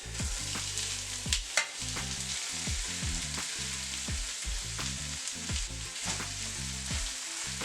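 Corned beef sizzles in a pan with vegetables and aromatics, steady frying crackle punctuated by repeated scraping and stirring strokes from a utensil, close and continuous with no talk.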